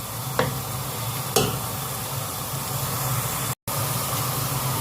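Garlic fries in a pan with a constant, close hissing sizzle. Two stirring scrapes break through, and the sound briefly drops out once.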